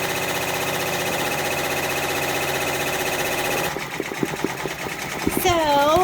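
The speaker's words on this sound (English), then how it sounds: "My machine, because I didn't put a pause, went right ahead and it stitched the dark orange over the light orange" A home embroidery machine stitches a freestanding lace pumpkin in orange thread, its steady rapid needle chatter running continuously for several seconds before stopping and giving way to quieter, irregular mechanical clicks, with a voice talking over it.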